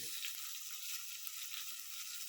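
Tomato being sautéed with garlic and onion in a home kitchen pan for mung bean stew, a steady close hiss of sizzling with a few brief clicks of utensils.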